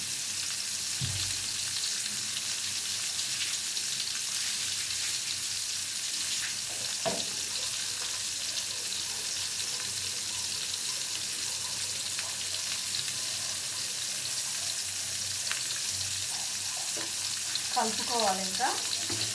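Bitter gourd frying in oil, a continuous close hiss with occasional stirring scrapes and a brief clatter of the spoon toward the end.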